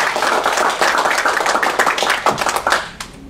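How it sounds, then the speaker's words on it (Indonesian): Audience at a motivational talk applauding warmly, dense overlapping hand claps that stay lively before thinning out at the end. "kita langsung saja dengan tepuk tangan yang meriah sekali lagi"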